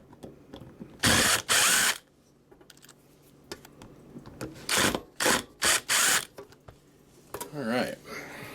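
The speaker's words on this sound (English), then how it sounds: "we're going to undo these 2 screws, which are into the heat sink" Two screws are backed out of the heat sink of an RM Italy KL506 amplifier with a power mod. Several loud bursts of ratcheting clicks come close, separated by quieter pauses.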